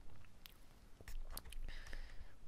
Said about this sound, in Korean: 아, 이 치킨 자체가 눅눅하니까 소리가 그렇게 좋질 않네요.